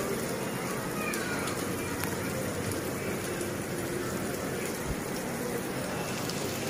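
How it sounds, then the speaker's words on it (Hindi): Heavy rain falls outside in Delhi as a steady, dense hiss with no breaks. A few faint background sounds come through it. "बाहर लोग आराम से नहा रहे हैं बारिश में।"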